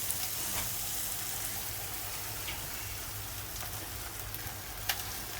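Butter sizzles on a toasted sandwich with melting kashar cheese at a toast shop in Kilis's industrial quarter: a steady, close, hissing crackle with scattered small pops throughout.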